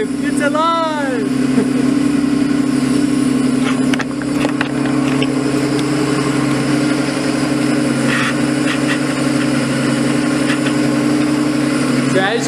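A Nissan RB25DET in a 240sx idles steadily right after its first start, a continuous close, loud rumble that holds evenly throughout, with a brief whistle-like sweep near the start.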